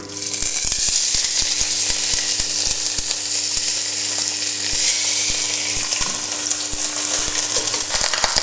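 A rack of lamb sears in a hot pan, giving a loud, steady sizzle and crackle of frying that carries on unbroken from start to finish.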